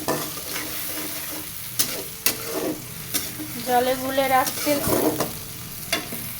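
A spice paste of salt, turmeric, coriander, cumin, garam masala and chili powder mixed in water is sautéed in a pan, with a steady sizzle, sharp spoon knocks and bubbling surges, close by and without speech.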